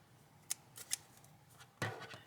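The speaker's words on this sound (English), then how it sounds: "So cut the yarn." Scissors snip through crochet yarn up close, a few quiet, sharp clicks and cuts spaced irregularly over a soft background hiss.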